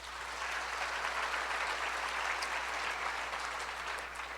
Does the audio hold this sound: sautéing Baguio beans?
no